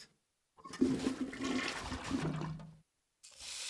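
A toilet flushes in the Zoo Tycoon video game, a steady rushing and gurgling wash of water lasting about two seconds before cutting off, then another flush begins.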